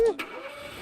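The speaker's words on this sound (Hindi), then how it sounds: "इन गाड़ी की स्टार्ट कर दी।" A car engine cranks and catches in a quick start, a short burst followed by a steady low idle hum that holds on briefly.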